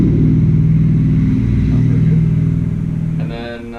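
A car passes close by with a loud, low engine rumble that holds steady and then fades away near the end.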